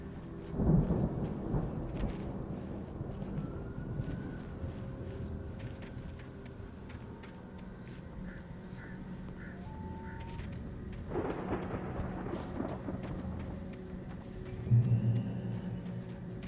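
Storm thunder in the Alan Wake video game, a loud rolling crack that rumbles on, then a second heavy boom later, over a steady bed of rain and wind, with no speech.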